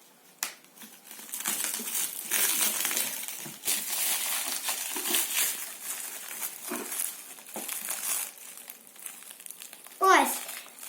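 Plastic and paper packaging crinkles and crunches as an ant formicarium is unwrapped, with scissors cutting through it; steady close rustling runs throughout, ending in a short louder crackle.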